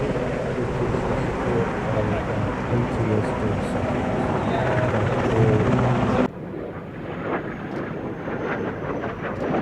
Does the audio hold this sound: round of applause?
no